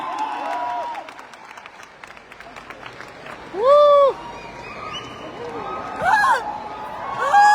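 An audience at a sales event applauds after a performance with bursts of clapping and cheering. Loud shouts and voices come through, and a person speaks between the swells.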